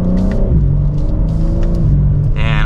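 Engine of a 2024 BMW M4 Competition on the move, heard from the cabin: a loud, steady low rumble with harmonic drone that rises and falls slightly in pitch as the car pulls along, with a brief brighter whoosh near the end.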